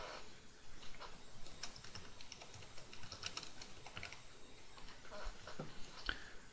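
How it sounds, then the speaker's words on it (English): Quiet, rapid computer keyboard typing, heard as a continuous patter of soft key taps at moderate distance with no speech over it. "Typically we would type in a description."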